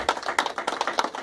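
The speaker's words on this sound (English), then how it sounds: "Can we give God a clap?" A church congregation at a Valentine's Day couples' dinner claps their hands in quick, uneven bursts of close, crisp slaps for about a second, with no speech over it.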